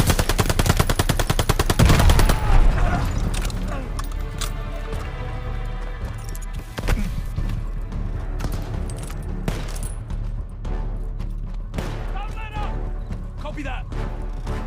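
Rifle and automatic gunfire crackle through a close-range World War II firefight in Call of Duty Vanguard, with a heavy opening volley of rapid shots easing into scattered bursts beneath near-constant shouted commands.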